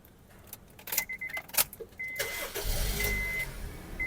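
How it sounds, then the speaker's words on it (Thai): Keys jangle briefly before a Honda Civic FD's engine cranks and catches, settling into a steady idle close by, with no one speaking. "พี่ๆจะได้ฟังเสียงเครื่องยนต์กัน"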